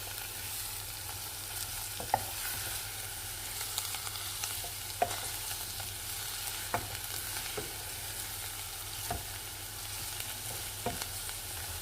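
Aromatics and a bay leaf sautéing in a pan for New Year lentils, a soft steady sizzle with occasional sharp taps of a utensil against the pot, faint and close.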